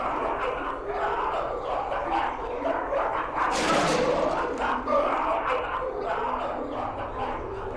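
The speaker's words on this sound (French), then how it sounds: "Oh, arrêtez d'aboyer." Dogs bark repeatedly in a horror video game, mixed with game ambience and a brief loud burst midway. The barking sits at moderate level, with excited voices reacting over it.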